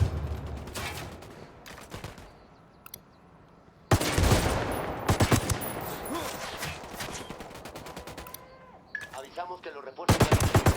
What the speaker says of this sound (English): Se han detectado disparos. Tirador desconocido.